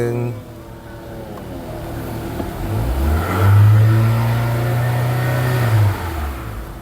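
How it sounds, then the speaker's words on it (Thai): A Lexus RX 270 engine revs from inside the cabin, the low drone rising into one sustained rev that holds for a couple of seconds and then settles back, with faint background noise around it. "เดี๋ยวผมจะเร่งให้ฟังเสียงเครื่องนะครับ"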